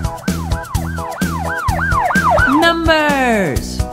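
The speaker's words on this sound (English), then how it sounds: "police car." A police siren wails up and down in repeated rising-and-falling sweeps, then slides downward as if passing, loud and close with a low engine rumble underneath.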